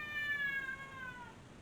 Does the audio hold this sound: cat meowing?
yes